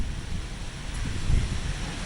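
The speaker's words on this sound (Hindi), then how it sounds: "तेज हवाएं भी चल रही हैं" Strong cyclone wind blows across the sea front in Colaba, Mumbai, a continuous low roar with gusty rumbling buffets against the microphone and surf washing underneath.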